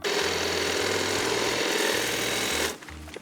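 A lawn edger's reciprocating head chatters loudly in rapid, pulsing bursts as it cuts right beside garden edging stones, then cuts off abruptly near the end.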